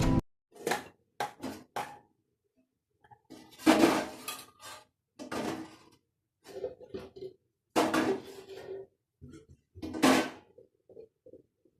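A lid goes onto a cooking pot of amaranth greens amid a series of separate metallic clanks and clinks from pots and utensils, close and sharp, spaced by silences.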